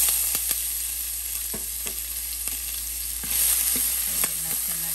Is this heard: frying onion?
yes